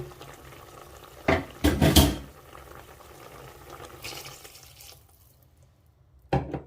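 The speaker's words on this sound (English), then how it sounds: "I'm going to add in a little more water now after mixing" Water is poured into a pot of African party fried rice, with splashing and a brief rush of liquid near the middle, quiet cooking background around it, and a sharp clatter at the end.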